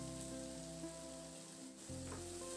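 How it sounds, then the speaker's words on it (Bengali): Pointed gourd paste frying in hot oil gives a steady, close sizzle with a brief dip in the middle, and no one speaks over it. "বাটাটা আমি তেলের মধ্যে দিয়ে দিয়েছি"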